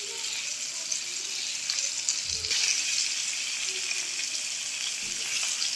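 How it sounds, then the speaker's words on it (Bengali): Hilsa fish sizzle and spit steadily in oil in a non-stick pan on a home stove, a bright continuous frying hiss with a couple of soft low knocks from handling the pan. "আমরা কড়াইটা ননস্টিক হওয়ার কারণ ননস্টিক না হওয়ার কারণে আমরা দুটা করে ভেজে নিচ্ছি।"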